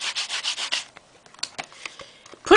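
An old ink pad rubbed onto an embossing folder, giving quick rhythmic scrubbing strokes up close, then scattered lighter rubs and taps.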